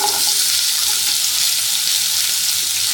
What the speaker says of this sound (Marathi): त्याच्यामध्ये एक चमचा तेल घालून घ्यायचंय मसाला भाजण्यासाठी त्याच्यामध्ये आपण सगळ्यात आधी कांदा टाकून घेणार आहोत